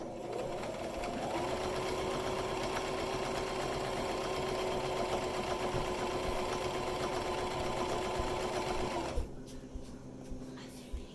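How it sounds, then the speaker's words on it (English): Sewing machine running a long straight stitch on a bag holder, a steady close whirring hum that holds for about nine seconds before stopping, followed by a few light clicks. "I'm going to straight stitch the rest of the way"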